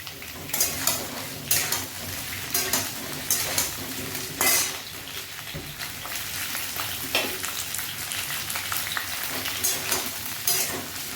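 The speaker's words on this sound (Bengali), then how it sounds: "ফুলকপিটাও দিয়ে দিলাম, একসঙ্গে ভাজা হবে" Cauliflower and potatoes fry together in hot oil in a kitchen pan, crackling and sizzling steadily up close, with repeated scraping and clinking of a spoon stirring through the pieces.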